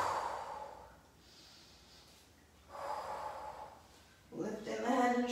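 A person inhales during an at-home beginner ab workout, with a couple of audible breaths spaced across the moment and a louder, snort-like intake near the end, close up and with no talk over it.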